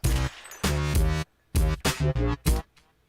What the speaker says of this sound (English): So it would sound like this with the flanger and the echo.